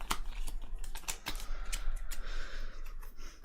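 Playing cards shuffled during a DC deck-building card game: a rapid run of crisp riffling clicks and flicks, close and fairly loud, with no talking.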